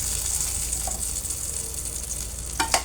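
Eggplant slices fry in hot oil with a steady bright sizzle throughout, and a couple of brief clatters near the end.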